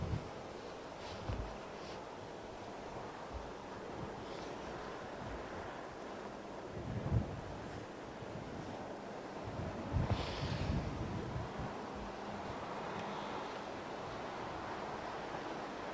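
Blustery wind at Heathrow Airport, a continuous rushing roar with gusty swells and buffeting against the microphone, no voices.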